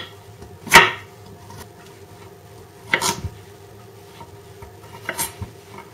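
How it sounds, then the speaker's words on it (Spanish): A knife slices through a peeled carrot, lengthwise then across, in three crisp, separate cuts about two seconds apart, close and clear against a quiet kitchen background. "La zanahoria la pelaremos y la vamos a cortar primero"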